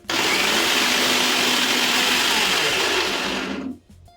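A mixer grinder grinds cooked chana dal with masala for a Karnataka-style katina saaru, a loud steady whirring roar that holds for nearly four seconds before cutting off abruptly.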